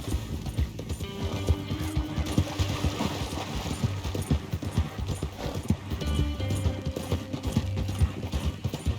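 Steady clip-clop of horse hooves trotting at an even rhythm in the video game Red Dead Redemption II, close and continuous, with faint mechanical clicks underneath.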